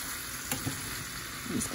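Onion slices and sausage fry in a pan for breakfast, giving a steady close sizzle with a couple of soft scrapes and taps, and no one speaking.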